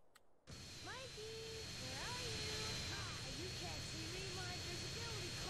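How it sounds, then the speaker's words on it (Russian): A plane's engine in the video game GTA San Andreas drones steadily and loudly after a brief start. Chirping tonal sweeps rise and fall above the constant roar. "А, наша любимая модель самолета."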